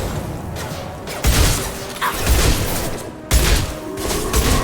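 Gunfire in the video game Mass Effect 2, loud sustained bursts of shooting with heavy booming impacts and dense combat noise.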